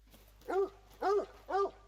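Hunting dog in theHunter Call of the Wild barking three times in an even rhythm, each bark clear and moderately close, with no talk over it.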